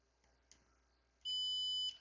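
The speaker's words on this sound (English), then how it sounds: "Hopefully you guys can hear the beep." A continuity tester emits a single steady electronic beep lasting about half a second as its probes touch contact pads on the engine computer of a 2002 Mercedes C240, following faint handling clicks.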